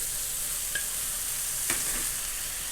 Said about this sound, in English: I like to brown my pork. And at this point, add kimchi